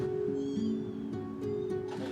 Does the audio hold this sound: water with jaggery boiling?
no